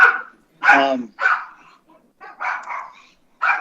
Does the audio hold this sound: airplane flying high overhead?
no